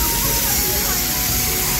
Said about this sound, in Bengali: এটা রেন ফরেস্ট টাইপের করা আছে, জল পড়ছে।